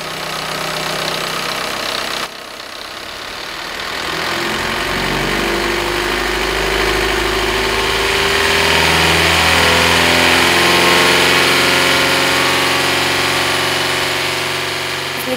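A running diesel engine hums steadily with a low, knocking idle that grows slightly louder and fuller partway through, with no talk over it.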